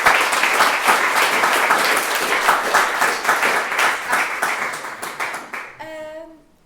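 Sustained audience applause follows a business pitch at a Clermont entrepreneurs' event on culture and creativity, dense steady clapping for nearly six seconds before fading into a brief tonal sound at the end.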